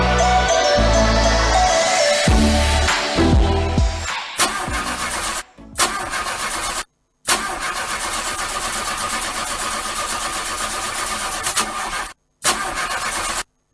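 A car engine cranks and catches in a radio advert sound effect, roaring at first and then cutting in and out through several short bursts separated by sudden silences.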